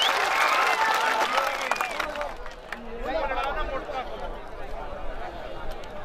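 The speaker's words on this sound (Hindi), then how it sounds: "एक बार नेपाल के नाम पर जोरदार तालियों से" A crowd at a village wrestling fair in Goripur claps loudly for Nepal, a dense burst that gradually thins and fades while voices talk over it.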